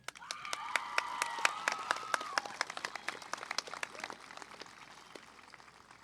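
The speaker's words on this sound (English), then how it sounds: "I think the class of 2022 deserves a round of applause" Applause for the graduating class at a high school commencement, with individual claps distinct and a brief cheer near the start, then gradually thinning and fading toward the end.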